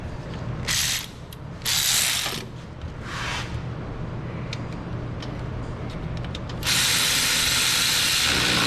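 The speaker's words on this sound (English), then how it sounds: "we need to switch over to standard hand ratchet" A standard hand ratchet tightens alternator bolts on a 2019 Mazda CX5, giving steady close-up pawl clicking in repeated strokes, with short louder bursts of rapid clicks and a longer run near the end.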